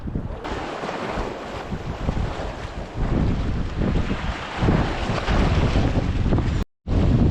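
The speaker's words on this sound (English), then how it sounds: "This wind's really driving into this area." Strong summer wind blasts across a shoreline fishing spot, a loud, continuous roar buffeting the microphone with gusts swelling and easing, plus a brief dropout near the end.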